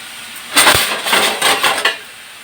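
A metal lid is set onto a cooking pot, giving a brief burst of clanking and rattling metal before settling, close by.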